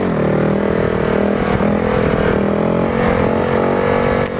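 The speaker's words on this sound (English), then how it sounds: "I ride a Honda Grom 2014 edition or whatever year." A 2014 Honda Grom motorcycle with a modded oil pump drones loudly and steadily, its engine holding a fairly even pitch up close with no pauses.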